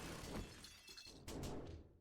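Glass shattering in the video game 7 Days to Die, a burst of breaking and tinkling with a second crash partway through, loud and close with no talk over it.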